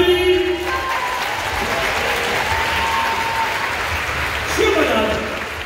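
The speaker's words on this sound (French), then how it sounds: "On l'applaudit." A live crowd at a Gaulish-versus-Roman staged show applauds a Gaulish supporter, steady dense clapping filling the whole stretch with a brief rise near the end.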